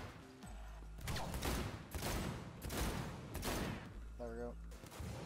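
Gunfire in Cyberpunk 2077: several loud, distinct bursts of shots spaced about a second apart, close and punchy, with a brief spoken remark near the end.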